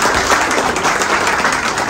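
Applause from a crowd welcoming women police officers at a police station farewell ceremony, dense and loud clapping held steadily throughout.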